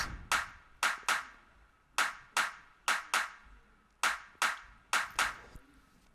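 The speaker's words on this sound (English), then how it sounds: "So now we get to the clap before we get to the bass." Sharp clap sample in an Afro Tech beat programmed in FL Studio, repeating in a syncopated pattern of about a dozen crisp hits with short decaying tails, clean and isolated with no talk.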